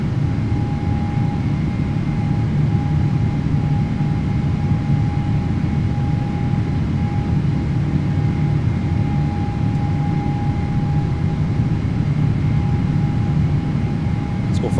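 PMDG 777-300ER jet engines hold climb power in Microsoft Flight Simulator, a loud, steady cockpit roar with a constant tonal hum and no change over the whole stretch.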